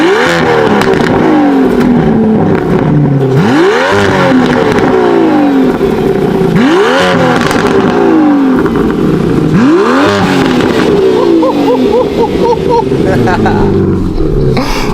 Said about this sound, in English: Ollie, can we just quickly hear the car?